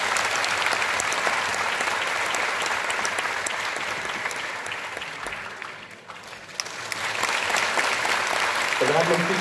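A large audience at a ceremony honouring the Prime Minister bursts into sustained, dense applause that fades slightly midway and then swells again, close and continuous with no talk over it.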